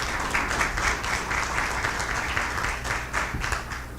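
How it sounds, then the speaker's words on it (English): Steady applause from a small crowd gathered at a fire station meeting, clapping continuously and fairly close throughout without any voices. "let's give them a round of applause"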